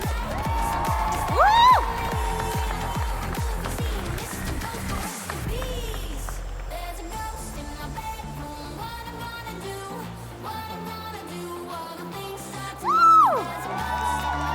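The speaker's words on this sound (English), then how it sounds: "Give them a huge round of applause, everybody." Audience at a DreamHack cosplay championship cheering and whooping for a contestant on stage, loud crowd noise with sharp shouted whoops near the start and again near the end, over music and background hall ambience.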